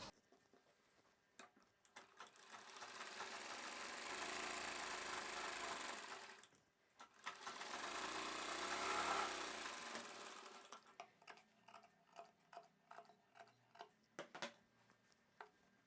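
A sewing machine stitches the neckline of a long blouse in two sustained whirring runs, separated by a short pause, followed by soft scattered clicks and handling taps.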